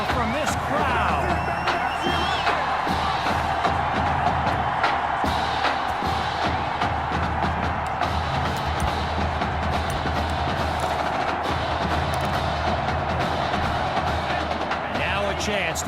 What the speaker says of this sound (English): A big-time play that gets a roar from this crowd.